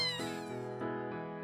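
A young kitten meows in a long, drawn-out, tonal call that dips and rises, then breaks into a second shorter meow, fairly close and quiet, with no voices.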